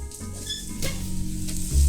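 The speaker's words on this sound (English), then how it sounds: "then I add in the onions and saute them for a couple of minutes until they're softened" Onions sautéing in oil with cumin seeds in a Dutch oven, a soft steady sizzle with light crackle, close and continuous, swelling slightly louder near the end.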